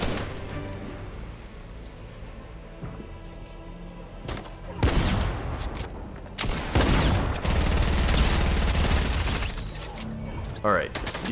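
Rapid bursts of gunfire in the Fortnite video game, including a shotgun, build into loud sustained volleys after a quieter stretch, with a voice talking over the action.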